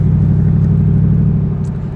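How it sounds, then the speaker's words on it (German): A 2008 Mercedes SLR McLaren Roadster with its exhaust rumbling loudly and close, a deep steady pulsing burble that eases slightly toward the end. "er ballert ja, dieses Donnern der Auspuffrohre"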